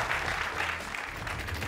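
The studio audience of the Greek Wheel of Fortune applauds in an even, continuous wash of clapping. It is moderately loud and steady for the whole moment, with no voices over it.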